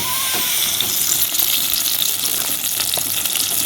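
Chopped onions fry in oil in a wok over a village cooking fire, a loud, close, continuous sizzle with bubbling crackle and occasional sharp spits, heard alone without talk.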